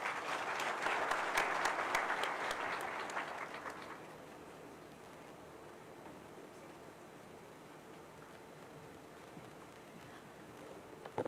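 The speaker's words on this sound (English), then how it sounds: "another round of applause as the Zahara team exits the stage" Loud audience applause at an outdoor summit closing ceremony in Uhuru Gardens, Nairobi, rising dense for about four seconds as the Zahara team leaves the stage, then dropping to a faint, steady crowd murmur.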